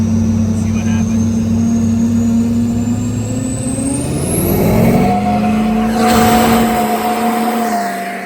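A custom-built RC monster truck whining up through its revs at three-quarter throttle, a loud, close electric motor pitch rising steadily, with people talking over it.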